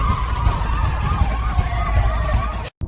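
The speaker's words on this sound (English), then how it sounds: "The sirens and screams mingled together." Wailing emergency sirens sweep up and down amid chaotic city street noise in New York, with a heavy low rumble and crowd din, continuous and loud before cutting out briefly at the end.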